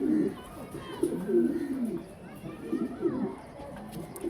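A nine-feather grizzle male pigeon coos in several low, warbling phrases at close range, with a steady room murmur behind it.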